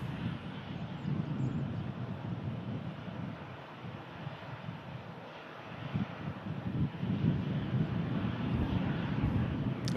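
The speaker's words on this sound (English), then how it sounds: "Jet2.com on the taxi out, 737-800 series." A Jet2 Boeing 737-800 airliner taxis out for departure, heard as a continuous distant engine roar and whine that swells slightly toward the end, mixed with wind noise against the microphone.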